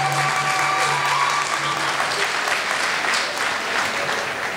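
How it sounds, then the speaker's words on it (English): Audience applause at a 2020 high school graduation ceremony, a dense steady wash of clapping from many hands that holds through the whole stretch and eases slightly at the end. "I think they deserve another round of applause"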